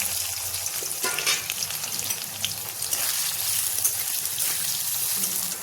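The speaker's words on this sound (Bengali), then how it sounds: "পনিরগুলো সব ছোটো ছোটো করে কেটে নিয়েছি, তেলে ভেজে নেবো" Small cubes of homemade paneer frying in hot oil, a steady, close crackling sizzle running throughout with no talk.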